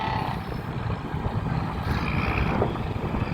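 A tank engine rumbles and drones steadily, rough and continuous and sounding faulty, with some wind noise over it.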